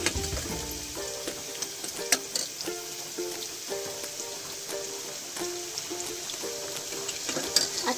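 Masala spices crackle and sizzle steadily in hot oil for paneer tikka masala, a soft, even frying hiss with scattered pops, close and fairly quiet, with no talking.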